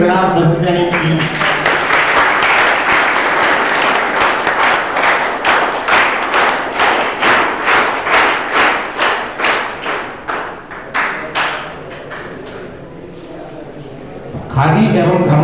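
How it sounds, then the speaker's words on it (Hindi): Sustained audience applause at a formal ceremony of officials from the Khadi and Village Industries Commission, a dense clatter of many hands that thins into a few scattered claps before a voice resumes. "तालियों की गड़गड़ाहट बजती रहनी चाहिए।"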